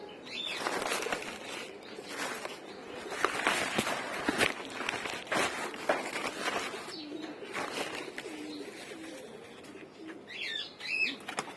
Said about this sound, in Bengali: দেখি কবুতরগুলো কি অবস্থা